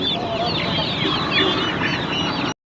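Crowded chickens cluck and squawk continuously at a poultry market near Magadi, Bangalore, a dense, loud chorus of overlapping calls that cuts off abruptly.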